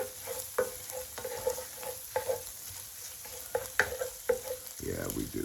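Grease frying in a pan for gravy as it is stirred, a faint steady sizzle broken by repeated sharp scrapes and taps of a utensil against the pan, close and quiet, no talking.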